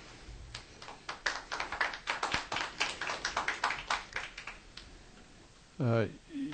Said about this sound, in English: If everyone in the audience would please refrain from any applause, we'd appreciate that.